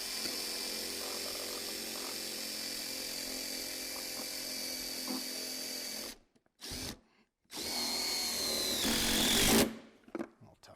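A power drill drives a screw into an outside purlin holder, a loud steady whine held for about six seconds, then short bursts and a final rising run before stopping.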